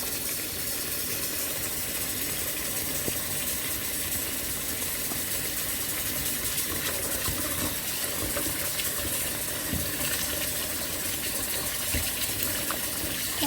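Water runs steadily from a tap while dyed yarn is rinsed in an easy wash, a constant, moderately loud hiss and gush that stays even for the whole stretch with no voices over it.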